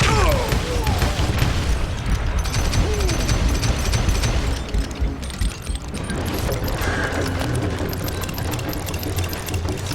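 Bombs thrown by an enemy in the Western shooter Call of Juarez Gunslinger burst amid continuous loud gunfire and crashing blasts, a busy, dense barrage that runs for the whole stretch with only a brief dip in the middle.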